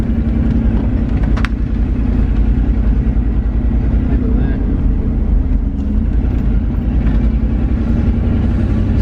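A truck engine drones steadily at close range while the vehicle is driven up on three wheels, a loud, continuous low rumble with little change in pitch.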